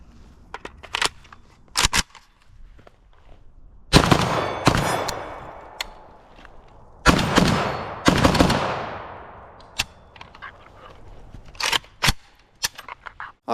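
A PSA AK-74 rifle fires at an outdoor range, with several sharp loud bursts of gunshots, some in quick strings, separated by quieter handling clicks and metallic clacks.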